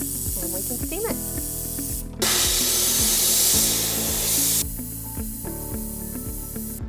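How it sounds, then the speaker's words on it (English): A jewelry steam cleaner blasts a soldered diamond ring, its loud, dense hiss running for a couple of seconds between stretches of background music. "And we can steam it."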